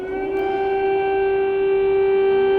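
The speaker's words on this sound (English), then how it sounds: "Air raid sirens ringing out across Ukraine" A loud air raid siren in Ukraine during wartime wails on one steady, sustained tone with harmonic overtones, close and continuous throughout.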